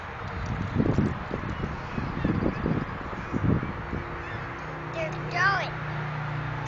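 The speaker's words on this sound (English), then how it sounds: "We done got all the birds over here." Geese honk in scattered calls toward the end, following loud thumps and scuffling up close at a bird hunt where bread is being thrown.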